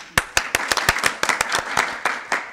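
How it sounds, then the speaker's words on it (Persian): Applause from a studio audience on a Persian comedy show, a burst of sharp, irregular hand claps lasting a couple of seconds with no speech over it. "آفرین آفرین، تشویق کنن."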